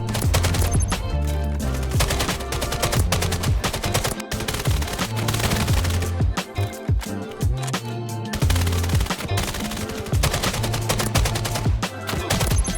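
Steady automatic gunfire in the VR shooter VAIL crackles loud and close in long, dense bursts, with rapid rattling shots nearly continuous throughout and no talking.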